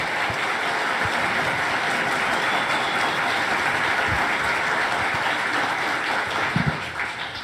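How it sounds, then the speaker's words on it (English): Audience applause for Dinesh D'Souza at a Christian debate, a steady dense wash of clapping sustained throughout, with a few closer louder claps near the end. "big round of applause for Dinesh real quick"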